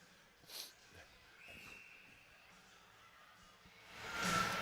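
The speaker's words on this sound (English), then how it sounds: "The cough ended up coming out before I could get the microphone turned all the way down" Two short, harsh coughs at a Pee Wee AAA hockey game broadcast, one near the start and a louder one at the end, breaking through quiet background noise.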